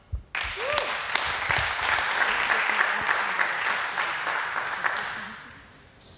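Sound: audience applause for a speaker

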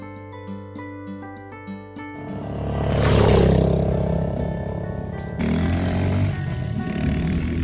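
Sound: motorcycle engine while riding

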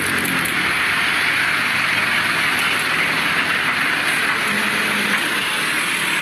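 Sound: Thomas toy train playing in mud

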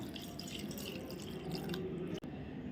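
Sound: water being poured into a pot for boiling greens

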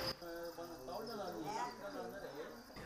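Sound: crickets chirping at a cricket farm

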